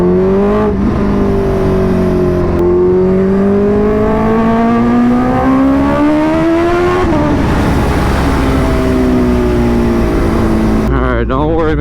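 A Kawasaki Ninja H2R supercharged motorcycle engine pulls hard under throttle, loud and close, its pitch climbing in long sweeps, then dropping off and rising again.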